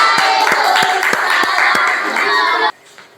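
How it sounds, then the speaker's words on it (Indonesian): A classroom audience claps in a loose rhythmic pattern with scattered voices and chatter underneath, stopping abruptly after under three seconds. "tepuk tangan."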